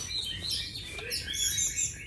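A Chinese hwamei (họa mi) songbird sings a run of bright, rapid, looping whistled phrases up close, loud and continuous over a faint low hum.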